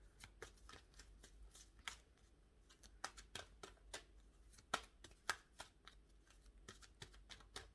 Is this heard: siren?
no